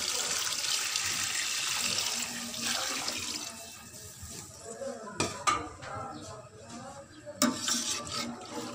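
About 1.5 litres of water poured into a pot for potato and green chickpea pulao, a loud gushing splash at first that thins out, followed by a few sharp metallic clinks of a utensil against the pot.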